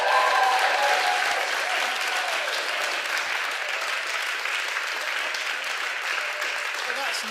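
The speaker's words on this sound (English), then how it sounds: "give a huge round of applause to Mr." A comedy gig audience at a Frinton mission event breaks into a dense, sustained round of applause welcoming a comedian on stage; loud and steady throughout, fading slightly toward the end.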